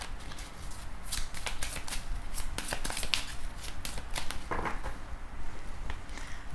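Tarot cards shuffled by hand in a steady run of riffling, flapping bursts, close and moderately loud, with no voices.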